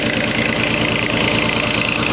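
A Massey Ferguson 240 tractor engine runs steady at about 1000-1100 rpm with PTO power driving a water pump. It gives a loud, even diesel chug at close range with no voices.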